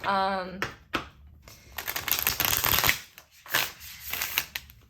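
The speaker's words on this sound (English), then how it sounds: "while I give these a good shuffle" Tarot cards being shuffled in quick riffling bursts, crisp and close, with brief pauses between passes and no talking.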